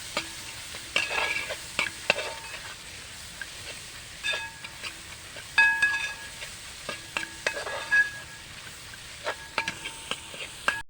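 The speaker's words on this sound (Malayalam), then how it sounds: "ഈ തക്കാളിയും കൂടി ഒന്ന് വഴണ്ടി കിട്ടണം" Tomatoes being sautéed in a pan for crab biryani, a steady soft sizzle under repeated scraping and stirring strokes of a spoon against the pan, close and continuous without talking.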